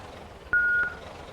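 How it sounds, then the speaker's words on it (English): Vehicle reversing alarm on the Spiffo van in Project Zomboid: two evenly spaced electronic beeps, moderately loud, over a low ambient bed. "That beeping is horrible. But no way in hell am I giving up the Spiffo van."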